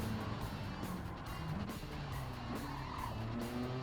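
Race cars, including a 1985 Fiat Panda 30 CL, in a racing video game, with engines droning and tires skidding and squealing through corners, a continuous, fairly loud mix of motor hum and screeching rubber, no voices.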